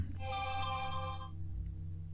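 A mobile phone ringtone sounds nearby, a bright melodic electronic tone that plays for about a second and then cuts off, followed by a low background hum.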